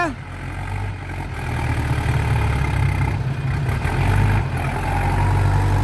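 A truck engine idles close to the exhaust pipe, a loud steady low rumble that holds throughout and swells slightly near the end.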